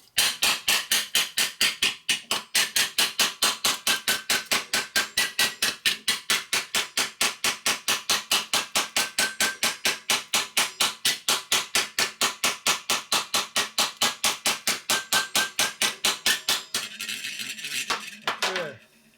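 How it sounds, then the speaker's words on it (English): Steady, rapid metal hammering as a punch strikes the edge of a 1955-65 Linkert air cleaner for a Harley Panhead or XL, dozens of sharp close blows in an even rhythm, then a brief scuffle of handling at the end. "I angled the punch over a little bit to hit on the edge to try to get that corner squared up more."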